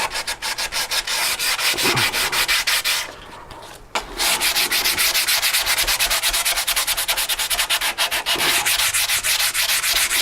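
Polyester resin being sanded by hand on a SIG Kougar model aircraft build: steady, close rasping strokes that pause briefly midway, then resume in a brisk rhythm.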